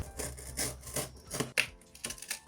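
An art craft tool works through ordinary cardboard in short, close scraping and tearing strokes, several quick rasping bursts at low volume.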